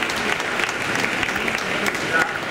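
An audience applauds a band at Venetonight 2017 in Verona, a dense, steady wash of clapping hands filling the room without pause at even loudness.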